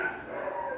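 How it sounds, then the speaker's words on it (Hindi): A dog barks somewhere in the background, faint and steady beneath a low hum, with no voices over it. "कुत्ते भौंक रहे यार, इग्नोर करना।"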